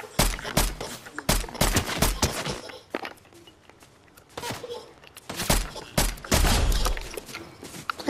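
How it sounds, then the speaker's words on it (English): Gunfire from a first-person shooter comes in several loud bursts of sharp shots with gaps between them, and quieter movement sounds fill the pauses. "I can't believe I actually shot that gun"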